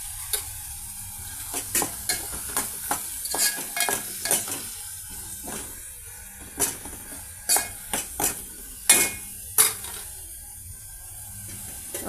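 Cocoa powder and red chilli powder stirred into tomato paste frying in a pan, a low sizzle broken by a series of sharp spoon scrapes and clinks against the metal, close and fairly quiet.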